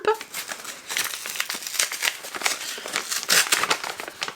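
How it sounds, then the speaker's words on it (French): Paper envelope being handled and torn open, with close, busy crinkling and rustling that runs continuously. "Et j'ai reçu une petite enveloppe de Poulpe."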